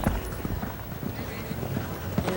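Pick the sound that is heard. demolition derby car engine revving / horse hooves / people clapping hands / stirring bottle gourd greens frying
horse hooves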